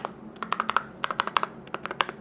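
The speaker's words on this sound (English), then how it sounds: "You're actually just typing on metal." A Lofree keyboard with metal keycaps and Kailh Pulse switches is typed on at close range, giving quick bursts of sharp, bright clacks in uneven rhythm with short pauses between runs and no speech.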